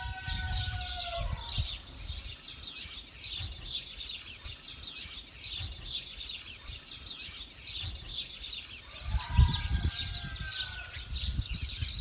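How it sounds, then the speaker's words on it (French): Songbirds call and trill in the spring countryside among rapeseed fields, a lively chorus of chirps and rising whistles with bursts at the start and near the end, over faint low rumble and no voices. "les chants d'oiseaux"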